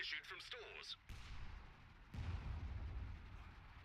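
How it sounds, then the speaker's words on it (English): Artillery fire in the WWII strategy game Company of Heroes, two deep booming impacts with rumbling tails following a short burst of voice, loud and close. "A captured MG is getting some artillery fire on it."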